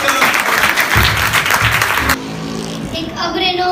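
Audience applause at a school speech competition rings out as a loud burst of clapping from many hands for about two seconds, then cuts off and a voice begins speaking.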